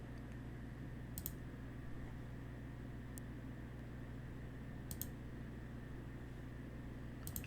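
A computer mouse clicking a few times, sharp isolated clicks spaced a couple of seconds apart over a quiet room hum.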